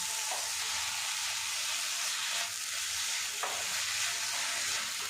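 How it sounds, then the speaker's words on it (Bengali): Grated carrot being stirred with date palm jaggery in a pan, a steady frying sizzle with scraping stirring strokes and occasional louder spatula scrapes, close and continuous without speech. "গুড়ের সাথে গাজরটা কিন্তু ভালো করে মিশিয়ে নেব"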